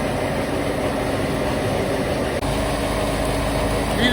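A tractor engine runs steadily on a snowy winter farm, a loud, constant rumbling drone close by with no voices.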